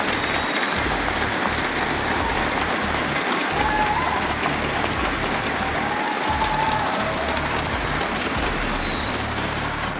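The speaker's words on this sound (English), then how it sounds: "If we can please get a round of applause from the audience for our two graduates." An audience applauding graduates at a Rainbow Six US Nationals 2019 esports event, with dense, steady clapping that carries on for about ten seconds.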